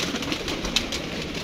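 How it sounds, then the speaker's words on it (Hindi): A soft pigeon coo close by, brief and low, over faint background noise. "बड़ा अच्छा कबूतर था, वो कबूतर है जो अब्दुल्ला ने पकड़ा था।"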